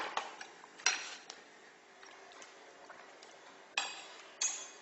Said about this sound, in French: après avoir bien remué le vide-prix et le sucre cristallisé